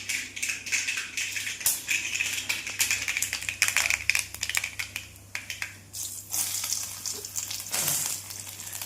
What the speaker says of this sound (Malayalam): കടുക് പൊട്ടി വരുമ്പം വെളുത്തുള്ളി ഇടണം